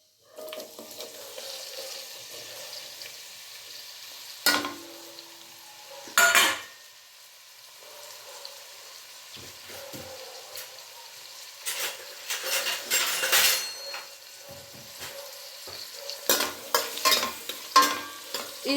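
Three onions and two green chillies fried in hot oil for rajma masala, a steady sizzle broken by repeated spoon scrapes and clanks against the pan, louder bursts of stirring toward the end, close and without speech.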